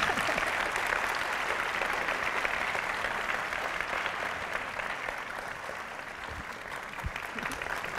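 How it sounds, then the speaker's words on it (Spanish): Audience applause fills a ceremony hall as a student is called to the stage to present a golden-skinned puma award to a doctor, steady dense clapping holding for about eight seconds and easing slightly toward the end. "Aplausos, por favor."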